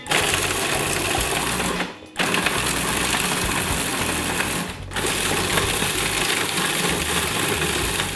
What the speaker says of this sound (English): I'm gonna pulse this, it'll be a little noisy, and we'll just pulse it down to a really nice fine breadcrumb